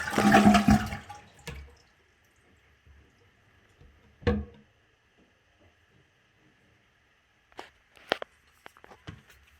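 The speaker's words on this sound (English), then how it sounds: "I'm just gonna flush the toilet" A toilet flushes with a loud rushing gurgle at the start, then the tank refills with a quiet hiss, punctuated by a few knocks and clicks, during bidet seat installation.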